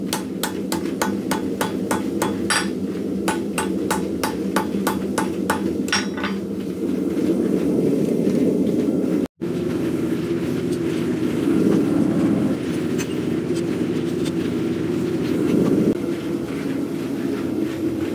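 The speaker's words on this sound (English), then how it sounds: "And I'm just doing random hammer blows." A rapid series of sharp metallic hammer strikes on metal rings out at random intervals, followed by a long stretch of loud, steady mechanical rumble.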